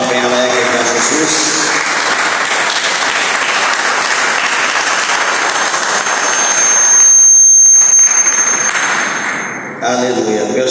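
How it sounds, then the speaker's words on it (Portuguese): A church congregation claps joyfully during a service, loud continuous applause mixed with voices, briefly dropping to a sharp hiss before clapping resumes at the end. "Quem pode dar uma salva de palmas bem alegre para Jesus?"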